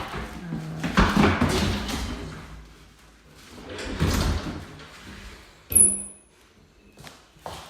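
A bedroom door inside a house on Lake Drive is opened, giving a couple of wooden thumps and rattles with a short sharp squeak or click near the end, close by in a quiet room.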